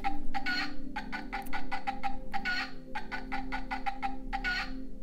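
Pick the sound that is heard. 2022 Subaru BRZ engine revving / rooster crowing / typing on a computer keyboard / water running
rooster crowing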